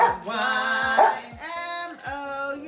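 A dog at home gives a few close, high-pitched yips and whines, each a short rising-then-falling cry, spaced unevenly over a couple of seconds.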